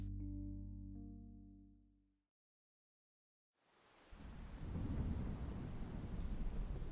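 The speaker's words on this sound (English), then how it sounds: "The rain pounded hard towards the poisoned earth" Heavy rain pounds hard onto poisoned earth near a riverbank with thunder, a dense steady roar of downpour rising in after a sustained low tone fades to a brief silence.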